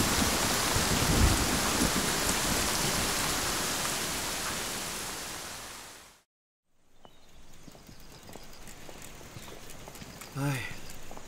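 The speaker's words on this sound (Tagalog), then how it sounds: "Di tumatagal ang malalakas na ulan." Heavy rain roars in a dense, loud, steady downpour for about six seconds, then cuts off abruptly into a quieter, softer wash of outdoor ambience.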